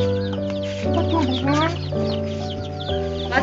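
Chickens cluck and call close by in a farmyard with chicks around, several short bursts over a steady low hum, with people talking in the background.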